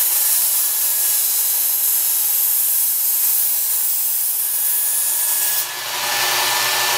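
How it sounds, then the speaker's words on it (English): A knife edge is ground on a Work Sharp Ken Onion Edition belt sharpener, a steady close whirring rasp of the running belt against steel that holds through the whole stretch, shifting slightly near the end, with no talking. "as I move through the curved portion of the knife, I'm raising the handle up so that the edge stays in contact with the belt"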